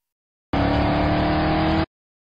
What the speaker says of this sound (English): For the second sound, we'll use the engine acceleration sound.